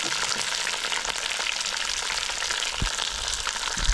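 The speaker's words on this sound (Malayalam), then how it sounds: "ഈ തക്കാളിപ്പഴവും പച്ചമുളകും ഒന്ന് വാടുന്നത് വരെ നമുക്കൊന്ന് വഴറ്റിയെടുക്കാം" Green chillies and tomatoes sautéing in a pan for a fish-head curry, a steady close sizzle and crackle of oil running throughout, with a couple of brief low knocks near the end.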